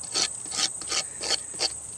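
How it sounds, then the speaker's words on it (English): A knife edge scrapes the hairs off a squash being made into a bugle, giving five or six evenly spaced, raspy, close strokes with no talking. "Scrape those off so we want it nice and smooth up there around that."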